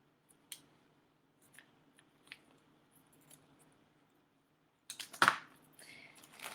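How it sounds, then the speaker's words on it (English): Scissors snip around a plastic sheet of stickers, a few faint, sparse clicks and cuts, followed by a louder burst of crinkling plastic near the end. "I'm going to cut around the plastic, keeping the stickers attached to the plastic"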